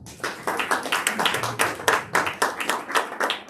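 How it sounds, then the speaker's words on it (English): Audience at a stage hypnosis show clapping in a steady round of applause, individual hand claps distinct and fairly close, sustained throughout with no talking over it. "Give her a massive round of applause"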